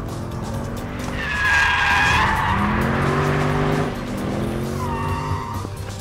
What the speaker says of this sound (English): I'm going to go in and initiate a slide in second gear.